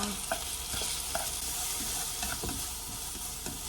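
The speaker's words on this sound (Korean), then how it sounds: "간장이 이렇게 타고 있으면" Soy sauce sizzling and burning in a hot frying pan, a constant hiss with occasional crackles and soft scraping as food is stirred.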